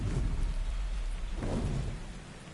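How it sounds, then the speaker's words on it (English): Rain falls steadily in the video game Ark, with a rumble of thunder swelling midway through the short stretch, then easing. "Might be hit by a storm here soon. In the game, not in real life."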